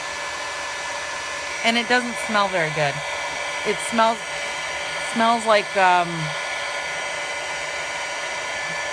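A heat gun runs steadily from start to finish, a loud constant whooshing blower roar with a high whine, while a person speaks intermittently over it.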